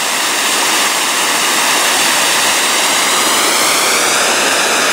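Water pours steadily through a small weir at Twistesee, a loud, continuous broadband rush close by with no pauses and no voices.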